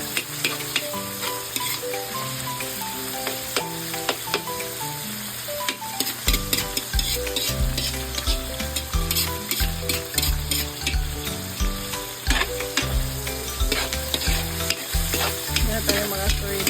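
Meat frying in a pan and being stirred with garlic and onion for pancit. A steady loud sizzle runs throughout, with scraping stir strokes and background music or noise layered over it.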